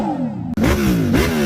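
A new Bugatti's petrol engine revs hard, its buzzing, bike-like four-cylinder note rising and falling in pitch with a brief cut midway, loud and close with no talking.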